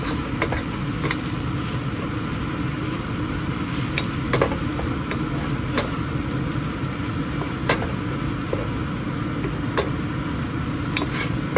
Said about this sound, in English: Let this fry a little bit for about a minute.